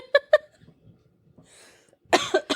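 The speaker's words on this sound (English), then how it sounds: "I got a cough." A person coughs twice in quick succession, close and sharp, followed by quieter breathing and then another burst of coughing with a hoarse, wheezy throat.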